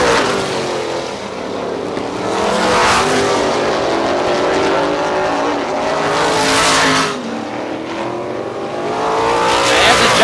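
Race cars roar together in a loud, close heat race at Star Speedway in New Hampshire. Their engines swell and fade as the pack passes, with faint tire noise underneath.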